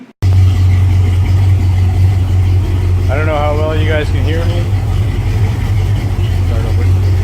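A truck idles with its power steering pump running, a steady low drone that holds throughout while someone talks over it close by.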